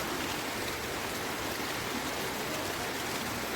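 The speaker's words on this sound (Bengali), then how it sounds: "ঝিরি ঝিরি বৃষ্টি রাস্তা পড়ছে" Light drizzle falling on a road at night, a steady, soft, even hiss of rain with no distinct drops or other sounds standing out.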